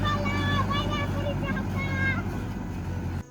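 A tractor rumbles past in a village, a steady low engine drone close by that eases off near the end, with a child and an adult talking over it.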